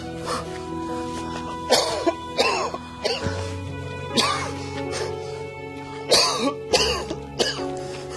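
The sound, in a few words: old man coughing badly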